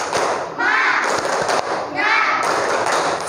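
A classroom of students performs a clapping chant as an icebreaker, with rhythmic thudding claps in two bursts while voices chant loudly along with them.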